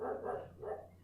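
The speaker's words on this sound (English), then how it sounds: "Sorry about my dog barking in the background." A dog barks twice in the background indoors, two muffled, moderate woofs spaced about half a second apart, with no talk over them.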